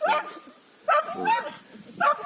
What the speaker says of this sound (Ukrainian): Подивись на пса.